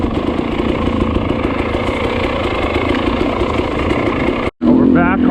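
A dirt bike engine drones steadily and loudly while descending a clay mountain trail in Romania, cutting out briefly near the end before a voice speaks over renewed engine noise.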